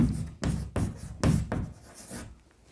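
Pen writing on paper while working a Class 10 maths problem, several short scratchy strokes in quick succession, close and clear with no talk.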